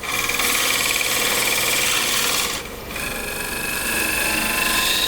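A calabash bowl spins on a wood lathe while a tool cleans up its surface, making a continuous scraping, rasping hiss that briefly drops away for a moment midway before resuming.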